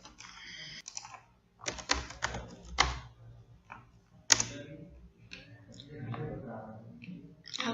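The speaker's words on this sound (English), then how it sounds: "So again, I'm typing territory here." A computer keyboard is typed on in short bursts of rapid clicking keystrokes, separated by pauses, with someone talking over parts of it.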